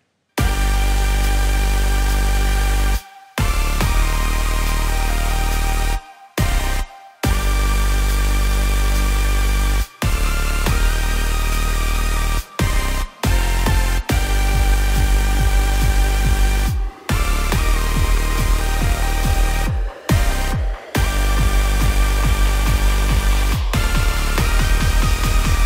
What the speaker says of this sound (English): today I'm going to be showing you how to make a big supersaw by layering